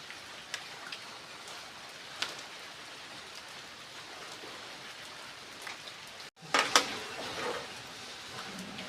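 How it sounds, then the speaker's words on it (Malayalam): Soft, steady patter of light rain with a few isolated drips, followed near the end by a brief burst of louder clattering closer by. "ചെറിയൊരു മഴയുണ്ട്"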